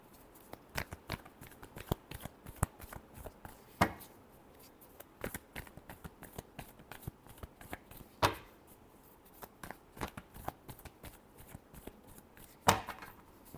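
Tarot cards shuffled by hand, a rapid run of close, crisp riffling slaps and flutters with occasional louder snaps, no voices.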